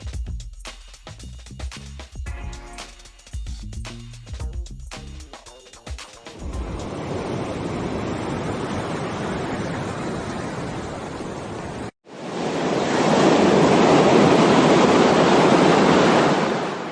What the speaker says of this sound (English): Let's also add a sound effect of the water.